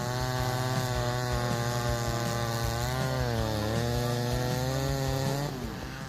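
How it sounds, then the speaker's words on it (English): A McCulloch 797 chainsaw fitted with a 404 full chisel chain saws through giant oak wood, its engine droning loud and steady at high revs with pitch dips under load before easing off at the end. "Let's see the wood sawing process of the McCulloch 797 125 sec machine, a formidable tool designed to conquer giant oak trees."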